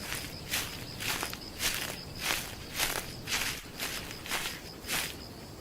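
A leopard walks through the Masai Mara in the rainy season, its footsteps falling in a steady rhythm of about nine soft, muffled treads, close by against a hissing background, with no voices.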